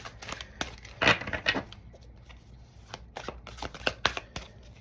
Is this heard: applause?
no